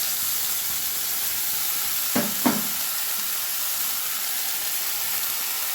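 Ground spice paste frying with softened tomato in a pan over a medium gas flame for snakehead fish curry: a steady, soft sizzling hiss throughout, broken by two brief utensil clinks midway.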